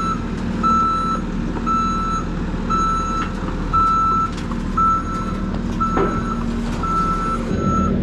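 A truck backs up onto tracks on a farm, its reversing alarm repeating a steady series of high beeps over a low idling engine rumble, with a brief louder knock near the end.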